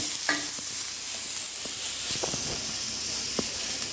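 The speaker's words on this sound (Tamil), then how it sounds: "கொஞ்சம் ஹை ஃப்ளேமில் வச்சு வதக்கணும்" Vegetables for chilli oil noodles are stirred over a high flame, giving a steady sizzling hiss with scattered scrapes and taps of the utensil against the pan, close and continuous without any voices.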